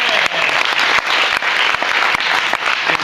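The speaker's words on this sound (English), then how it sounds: "A round of applause for all of the student competitors." Audience applause for student competitors at a math competition's grand champion round, a dense, steady roar of many hands clapping throughout, loud and continuous with scattered sharper claps.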